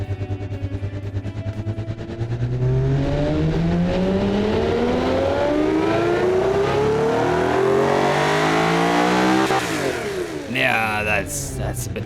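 A supercar engine in the Automation car-building game revs up from a low idle into a long, loud climbing scream, then drops and blips near the end, with someone talking over the start.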